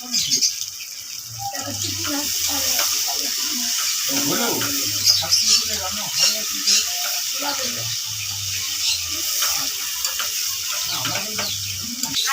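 Chopped tomatoes and salt fry in a pan on a rooftop cook-out, giving a steady sizzle with scattered stirring clatter throughout, faint voices in the background.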